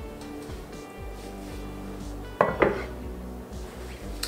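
A pot of ragout, simmered for two and a half hours, is lifted out of the oven with a loud metallic clank and a second knock of cookware, over a faint steady background hum.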